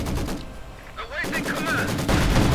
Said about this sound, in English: Enemy mortar!